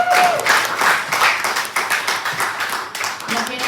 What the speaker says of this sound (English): Let's have another round of applause for Owen.